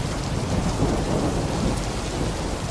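Heavy rain pours steadily with a deep rolling rumble of thunder underneath, a dense, continuous roar with no voices.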